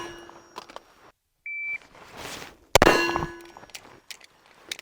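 Gun magazine released and dropping with a sharp, loud metallic clang that rings out and decays, preceded by faint clicks and a brief electronic beep, with no talking.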